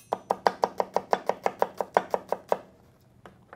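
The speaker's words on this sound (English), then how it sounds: "We're going to do a little julienne cut on it." Knife julienne-cutting an onion on a cutting board, a fast even series of about fifteen crisp chops close by, then a pause and a couple of light taps.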